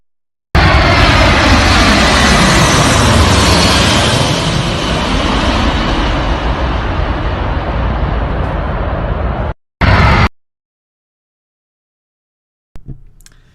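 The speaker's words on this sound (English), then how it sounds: "this is the C-17 Globemaster, I believe it's C-17 Globemaster, and it is a large aircraft" Boeing C-17 Globemaster large military transport aircraft, a loud sustained jet engine roar close by that holds for about nine seconds, cuts off, returns in a brief burst, then falls silent before a faint final noise.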